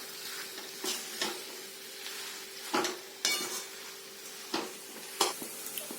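A spatula stirs a mashed potato filling for aloo paratha in a pan, giving soft sizzling under a faint steady hum, with a few clear scrapes and clinks against the metal.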